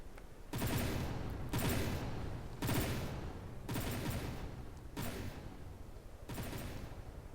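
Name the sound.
gunfire exchange between vehicles in a video game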